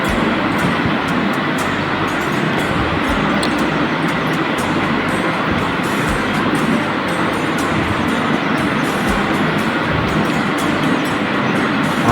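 Train rolling along the railway line near Juran rail gate, a steady, loud, continuous rumble with dense rattling and wheel noise holding level throughout, no talk over it.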